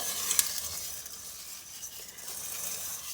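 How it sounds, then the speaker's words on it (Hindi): Vermicelli frying in ghee in a pan, a soft steady sizzle with a sharp scrape of a stirring spoon near the start and quieter stirring after. "और हम लोग सिर्फ 2 मिनट के लिए ही इन सेवइयों को भूनेंगे"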